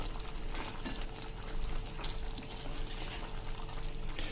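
Spiced black chickpea curry, seasoned with salt and black salt, is stirred in a pan, giving a continuous close sizzle with soft scraping and no voices.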